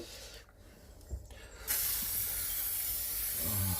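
Spray can laying a coat of paint during a Skoda Estelle 120 interior refit, a few soft knocks, then a sudden steady close hiss of spray that runs to the end.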